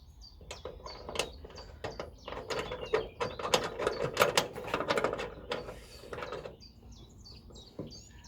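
A part of a car hood latch mechanism is hand-tightened, producing close, irregular metallic clicks and ratcheting rattles that build to a busy clatter before trailing off.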